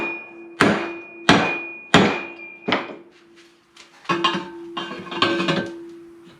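A hammer strikes metal in a home workshop while a can smelter is built, four sharp ringing blows evenly spaced, then a pause and a quicker cluster of lighter ringing taps, all close and clear with no talk.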